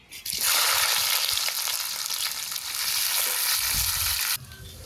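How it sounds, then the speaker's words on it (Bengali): Chopped onion hits hot oil already holding whole cinnamon, four cardamom pods, bay leaf, dry chillies and cumin while cooking mutton kosha, bursting into a loud, steady sizzle that fills the pan for several seconds before cutting off abruptly near the end. "এখন পেঁয়াজ কুচি দিই।"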